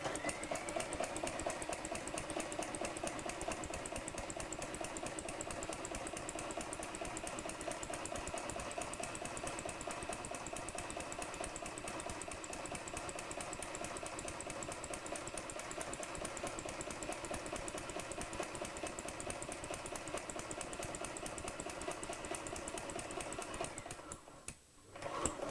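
A Hague linker machine links knitted fabric, giving a fast, steady mechanical clatter like a sewing machine that runs evenly for over twenty seconds before stopping with a brief clunk near the end.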